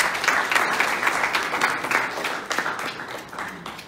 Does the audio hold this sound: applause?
yes